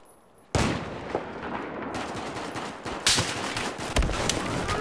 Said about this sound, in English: Ah, I heard shooting